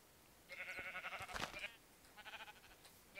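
Sheep bleating in the video game Minecraft, a couple of faint wavering bleats one after another, quiet and close with little else around.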